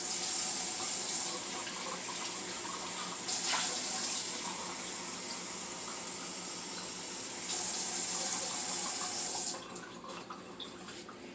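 Water is poured from a measuring cup into Golden Fry breading mix. It makes a steady, close splashing rush for about nine seconds, then stops abruptly, leaving near quiet.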